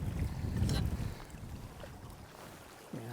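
Strong wind buffeting the microphone at Ardnamurchan Point on an exposed coast, loud rumbling gusts at first that ease into a steadier rush, no one speaking.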